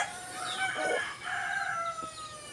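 Bantam mix native rooster crowing at moderate distance, one drawn-out cock-a-doodle-doo with a few clucks in a quiet outdoor setting, fairly faint overall.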